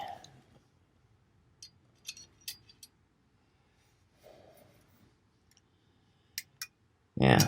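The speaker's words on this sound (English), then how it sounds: "Let's get out the tape measure here." Steel tape measure blade pulled out near a knife prototype, a few short clicks and rattles scattered through quiet, ending in a louder burst of sliding and clatter close by.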